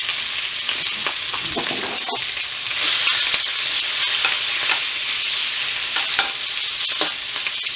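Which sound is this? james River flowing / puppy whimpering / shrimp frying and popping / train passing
shrimp frying and popping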